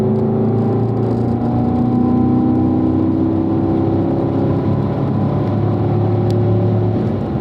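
A race car accelerates hard onto a track straightaway after clipping the apex, shifting from third to fourth gear. The engine drone is loud and close, with a steady roar that rises gradually in pitch.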